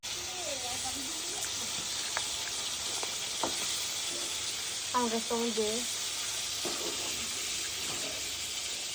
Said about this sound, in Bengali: মাছ ভাজা কমপ্লিট হয়ে গেছে